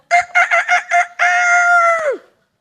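A rooster crows loudly and close by: a burst of five short, choppy notes, then one long sustained note that falls away at the end, with no other sound around it.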